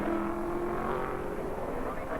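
Sport sedan race cars at the 1988 Wellington Street Race roar past in a steady, continuous engine drone that holds at moderate loudness for the whole stretch, with no clear gaps between cars.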